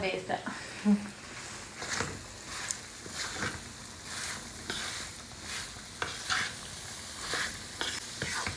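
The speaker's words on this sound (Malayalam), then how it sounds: "ഞാനിതെല്ലാം കൂടെ ഇളക്കി ഒരു മാക്സിമം രണ്ട് മിനിറ്റ് ഞാൻ അത്രേ വെക്കുന്നുള്ളൂ" Chopped nutmeg for pickle frying in a hot pan and being stirred, a faint sizzle with intermittent scraping strokes under a person talking throughout.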